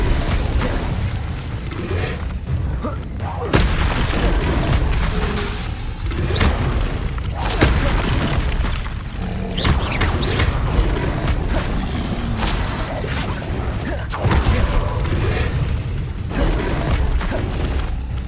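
Fire and blasting spells from Confringo and Incendio in the Hogwarts Legacy video game burst repeatedly in loud, booming explosions, layered with crackling flames and mechanical clatter, one impact after another with almost no gaps.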